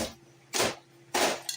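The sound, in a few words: chipping ice with an ice pick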